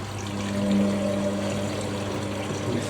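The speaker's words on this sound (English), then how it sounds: "I'm just filling for final rinse now, conditioner's going in" An Indesit IWDC6125 washer dryer filling with water for the final rinse of a cottons cycle, a steady rushing pour of water with a constant low hum, close and alone.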